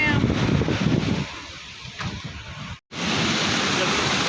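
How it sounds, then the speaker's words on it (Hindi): Swollen river water rushes fast under a bridge, a dense broadband roar that dips briefly and cuts out for a moment before returning at full strength, with a voice talking faintly in the middle. "देखिए कितना पानी है, कितना ऊपर आया हुआ है, फ्लो देख सकते हैं आप।"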